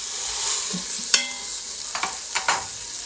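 A beef roast browning in an Instant Pot, a steady loud sizzle of searing meat close up, with a few sharper scrapes and clatters as it is moved and turned.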